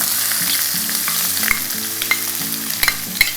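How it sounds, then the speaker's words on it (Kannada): Finely chopped onion fries in a tempering of spices and asafoetida for upma, a close steady sizzle with stirring clinks and scrapes of a spoon in the pan. "ಒಗ್ಗರಣೆ ಆಗಿದೆ. ಈಗ ಈರುಳ್ಳಿ ಹಾಕ್ಕೊಳ್ತಾ ಇದ್ದೀನಿ."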